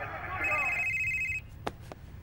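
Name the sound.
telephone ringing in Beyond Two Souls video game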